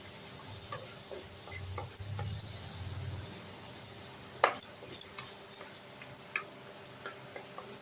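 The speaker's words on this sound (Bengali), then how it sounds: "বাটারের মধ্যে একটু রসুনটা আমি লাল করে ভাজবো।" Chopped garlic fries in melted butter in a pan, a soft steady sizzle over the first few seconds giving way to a series of sharp spoon taps and scrapes against the pan.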